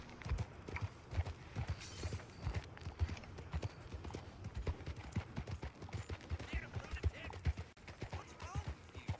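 Rapid, even clip-clop of horse hooves trotting on a hard surface in Red Dead Redemption 2, a steady galloping rhythm close by and moderately quiet, with faint speech underneath.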